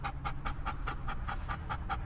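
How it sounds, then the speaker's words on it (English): An excited dog pants heavily and fast, with a steady rhythm of about five breaths per second, loud and close throughout, over low background rumble. "He's gonna pant like a raving lunatic."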